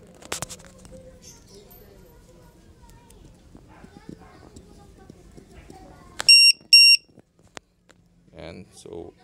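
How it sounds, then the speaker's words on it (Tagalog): A battery tester's low-voltage alarm gives two sharp, loud electronic beeps partway through, against a quiet room with handling noises and brief speech near the end. "isaksak ko rin yung tester sa kabila para mag-alarm siya kung mag-low voltage siya."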